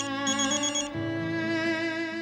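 A telephone rings with a bright, repeating electronic tone, loud and close, its pitch pattern shifting partway through.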